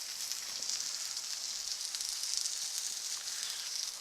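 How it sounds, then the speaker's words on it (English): A sausage patty sizzles on a Blackstone griddle with a steady, close, crackling hiss that holds an even level throughout. "we're going to get this sausage on there. Sausage patty there."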